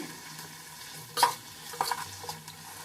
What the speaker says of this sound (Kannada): ಟೊಮಾಟೊ ಹಾಕೋಣ ಇವಾಗ ಟೊಮಾಟೊ ಚೆನ್ನಾಗಿ ಸ್ವಲ್ಪ ಬೇಯಲಿ ಎಣ್ಣೆಯಲ್ಲಿ